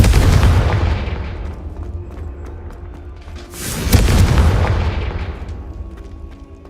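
Two heavy magical explosions from a Confringo fire spell in Hogwarts Legacy, a deep booming blast at the start and another sharp burst near four seconds, each rolling off into a long rumbling decay.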